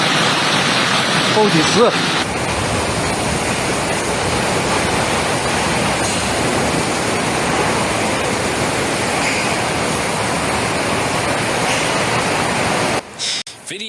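Hail pours down steadily during a storm in China, a dense, loud, continuous hiss and patter filling the air, with a voice speaking briefly near the start before the sound cuts off abruptly near the end.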